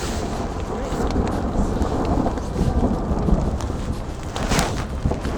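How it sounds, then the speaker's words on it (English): Heavy rain pours steadily through a violent thunderstorm in the Swiss Alps along the Haute Route, with rumbling thunder swelling throughout and a sharper crack near the end, loud and continuous. "being lulled to sleep by a vicious storm"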